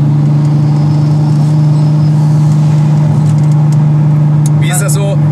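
A VW T5 double-cab van with a 700 hp R32 turbo engine and 4Motion drive idles with a steady, deep droning hum, loud and close, under someone talking.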